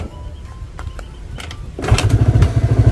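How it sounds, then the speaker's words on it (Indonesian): A motorcycle is kick-started with a few scuffing kicks, then its engine catches and settles into a loud, steady, close-up putter. No one speaks. "Kita engkol pada bagian sebelah sini."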